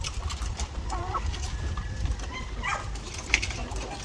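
Heritage breed chickens on a farm cluck and murmur in short scattered calls over a steady background hum, moderately close, with no talk.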